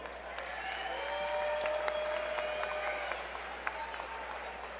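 A crowd at a Cage Titans MMA cage fight applauds and cheers steadily, a dense, sustained wash of clapping from a large audience with a few sharper claps standing out, holding at an even loudness throughout.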